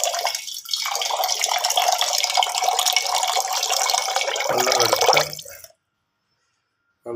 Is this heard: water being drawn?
yes